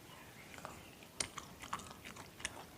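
Close, crisp bites and chewing of tender, crunchy bamboo shoots cooked with beef cheek, several quick crunches spaced through a quiet room.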